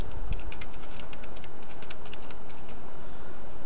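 Quick, light keystrokes on a computer keyboard as a word is typed into the Windows search box, a short run of crisp irregular clicks close up against a quiet background.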